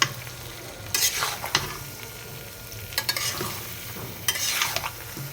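A spatula stirs olive pickle (jolpai achar) in a pan, making repeated bursts of scraping and clattering over a low, continuous frying sizzle.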